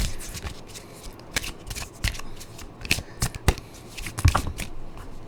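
Tarot cards being shuffled for a love reading, a run of crisp riffling and slapping bursts that grow sharper and louder toward the end, heard up close with no talking.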